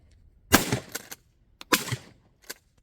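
Shotgun fired at clay targets outdoors, two sharp loud blasts about a second apart in time, each followed by a short echoing tail, with a fainter crack near the end.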